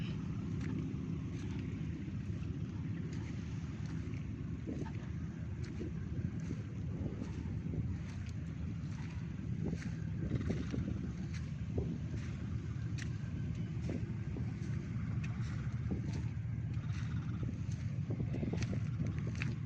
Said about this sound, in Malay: Senang betul kalau pagi-pagi balik kerja ke pantai ni kan. Sejuk aja, angin kuat.